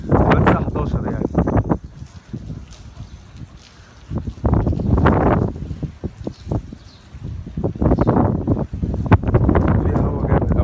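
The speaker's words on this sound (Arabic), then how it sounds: "في هوا جامد أوي النهارده" Strong wind gusts during a rainstorm buffet the microphone in loud, roaring bursts that come and go, with quieter lulls between them, while someone talks.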